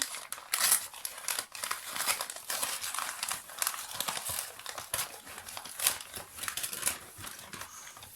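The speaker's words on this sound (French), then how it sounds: "Ensuite, on va ouvrir le calendrier de Orlan D, qui est de Belgique." Paper crinkling and tearing as an advent calendar from Orlan D of Belgium is opened, a steady close crackle with short rustling bursts and no talk.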